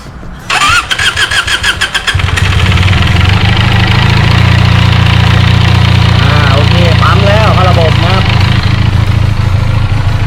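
A Benelli TNT300 motorcycle engine, fresh from an oil change, cranks briefly, catches, and settles into a loud, steady idle close by, with a voice speaking faintly over the running engine.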